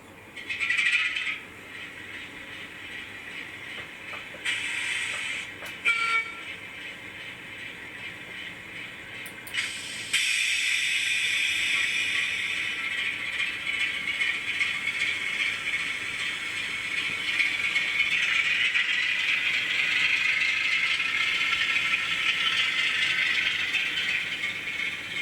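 A Hornby Class 08 model shunting locomotive sounds through a modified, sealed speaker, giving a loud rattling diesel whir that stops and starts briefly, then settles into a steady droning hum for the rest, with no talking.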